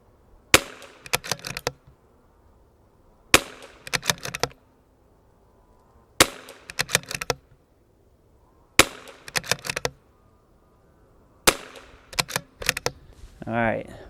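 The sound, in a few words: CZ 457 rifle shots, five-shot group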